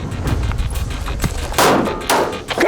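Gunfire during a military shooting exercise, with a couple of sharp, loud shots standing out over a rumbling, noisy outdoor background.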